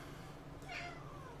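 A cat gives a short, faint meow, brief and rising, over a low background hum.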